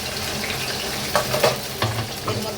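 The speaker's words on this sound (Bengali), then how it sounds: "পেঁয়াজ আর টমেটো দিয়ে দিচ্ছি।" Onion and tomato tossed into hot oil with a few bay leaves for a country chicken curry give a steady, close sizzle, with brief louder crackles and stirring scrapes partway through.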